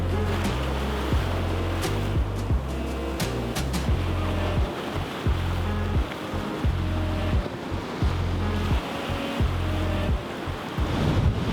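Waves washing onto Anse Royale beach in the Seychelles, a loud, continuous roar of surf close by with heavy wind buffeting the microphone throughout and no talk.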